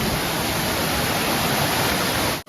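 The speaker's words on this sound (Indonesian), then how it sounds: "ini namanya air terjun Kedung Kebyur" Kedung Kebyur waterfall, spilling over rocks in the Cangar forest, gives a loud, close, unbroken rushing roar with no voices, cutting out for a split second near the end.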